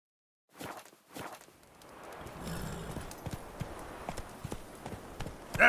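Hooves of the horse Roach clip-clop in The Witcher 3, starting with a few distinct steps and settling into a steady walking rhythm on the ground. A faint voice comes through briefly.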